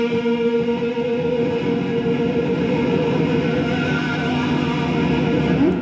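A sustained electric guitar note wobbles with heavy vibrato through a chain of effects pedals, shimmering with steady loudness and no voices.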